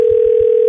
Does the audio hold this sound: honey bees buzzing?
no